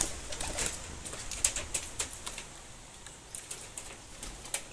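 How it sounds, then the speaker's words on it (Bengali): Pigeons, including a young male bred from a black-marked pair, coo softly with scattered patter and short bursts of wing flapping at a moderate distance, without any talk. "এ হচ্ছে আরেকটা নর পায়রা, কালাঙ্কা পায়রা দিয়ে ভাঙা, কালাঙ্কা জোড়ার বাচ্চা"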